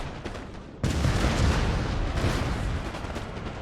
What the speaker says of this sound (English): Canister's now firing away.